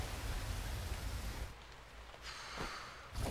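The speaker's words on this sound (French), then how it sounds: "Il pleut depuis ce matin." Steady rain falls in a continuous broadband hiss, easing briefly partway through before picking up again, with no talking.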